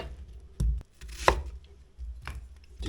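A white onion is cut with a knife, giving a few separate, close chopping thuds at an uneven pace with quiet gaps between them and no talking.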